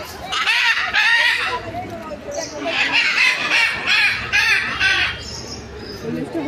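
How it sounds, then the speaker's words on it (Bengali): Birds screech and squawk at Alipore zoo in Kolkata, with loud harsh calls in repeated bursts close by, over a background of crowd murmur. "পুরো চিড়িয়াখানাতে পাখিদের আওয়াজটাই বেশি পাওয়া যাচ্ছিল"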